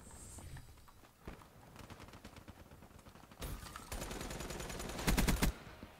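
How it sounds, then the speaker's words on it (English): Black Ops 3 multiplayer gunfire rattles in rapid automatic bursts, quiet at first and then building into loud, dense volleys toward the end, with softer footstep-like taps between shots. "We're all just shooting at each other."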